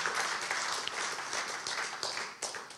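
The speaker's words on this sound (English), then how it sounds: "maybe we could give him an applause." An audience at a talk-event gathering breaks into brief applause, a dense patter of many hands with a few sharper claps standing out, fading slightly over about three seconds.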